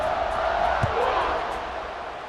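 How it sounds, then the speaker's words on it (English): Simulated college football stadium crowd in EA Sports College Football 26 cheers at kickoff, a continuous loud roar with a single thump partway through. "this crowd now ready to get behind them"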